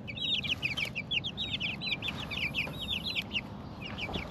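Chickens in their coop cluck in rapid overlapping bursts, a busy, moderately close chatter running over a low background hum with no talking.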